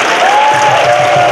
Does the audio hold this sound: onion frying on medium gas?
no